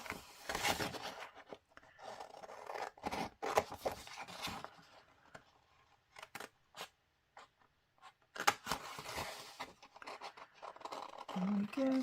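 Scissors cut through paper squares for a Christmas craft, producing quiet scratchy snips in irregular bursts separated by short pauses, with a voice speaking between the cuts.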